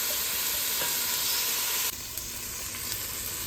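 Onions and garlic sizzle loudly in a pot as the base for jambalaya, a dense steady crackle close by that drops a little in level partway through.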